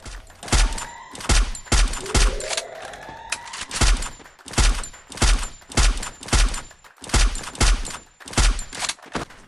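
Gunfire in the mobile battle royale game Free Fire, loud repeated bursts of rapid shots in a steady rhythm of short volleys, close and dominant, with a rising electronic whine in between.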